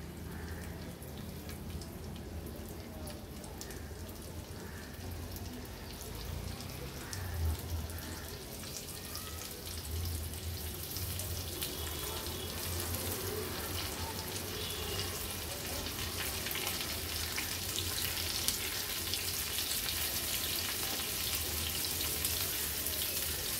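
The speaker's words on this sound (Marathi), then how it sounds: "गॅसची फ्लेम आता लो टू मीडियम वर करते आणि एक एक करून हे सुके बोंबील तेलावर सोडते" Dried Bombay duck fish dropped into a little hot oil over low to medium flame, giving a steady, dense sizzle and crackle with soft popping that stays even and fairly close throughout.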